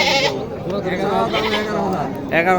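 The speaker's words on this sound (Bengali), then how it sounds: "ভেড়াও আছে" Sheep bleat repeatedly at a busy goat and livestock market in Kirtipur, Naogaon, loud and close, mixed with steady talking and crowd chatter.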